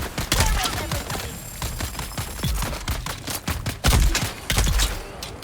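Gunshots in Dune Awakening: a dense, loud volley of rapid shots and cracks with uneven bursts and brief pauses, close by.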